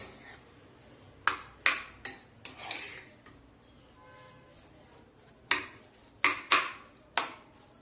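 Pomegranate lemon fried rice being mixed in a pan, with a series of sharp metal spoon clanks and scrapes in irregular bursts over a faint background hiss.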